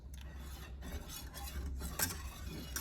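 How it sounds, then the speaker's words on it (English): A spoon stirs a flour-and-milk sauce for chicken alfredo in a pan, making soft, continuous scraping and swishing. The sound is quiet and close, with no speech. "I'm mixing more and more."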